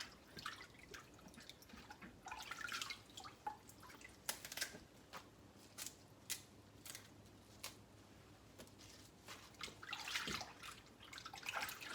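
Mustard greens washed by hand in water, soft close splashes and drips with irregular trickling, faint and alone.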